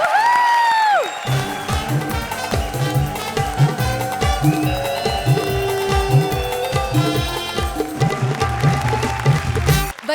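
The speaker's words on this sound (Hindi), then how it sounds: "जोरदार तालियां कपिल और कविता के लिए।" Studio audience at a comedy show applauding and cheering, a dense, steady clapping roar with scattered whoops, preceded by a short high vocal cry.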